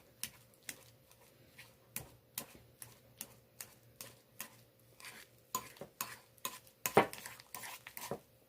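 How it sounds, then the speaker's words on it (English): Eggs with a little salt and pepper being smashed and stirred in a bowl, a series of sharp clinks and taps from a utensil against the bowl in an uneven rhythm, close and fairly quiet. "And then we're going to smash and stir."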